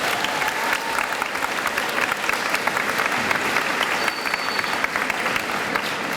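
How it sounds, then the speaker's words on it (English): A school audience at an eighth-grade promotion ceremony claps for subject award winners, with dense, steady applause filling the room throughout. "Let's give one more round of applause for all the subject winners."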